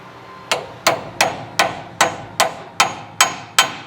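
Nine sharp hammer strikes at a steady pace drive a king pin into the front axle of a 1966 Ford F100, each blow loud and close with a short ringing decay, no talking.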